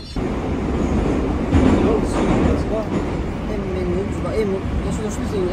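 A Moscow metro train produces a steady, loud rumble with faint rail rattle throughout, while people talk over it nearby.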